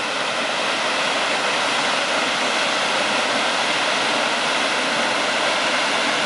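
Crammel Linn, Northumberland's biggest waterfall near the Cumbria border, pours with a steady, loud broadband roar of rushing water that holds unbroken throughout, with no voices.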